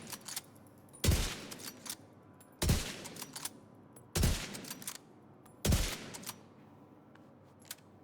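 Rapid gunfire from a video game weapon, fired in four loud, evenly spaced bursts about a second and a half apart, each a sharp cluster of shots, with no talk.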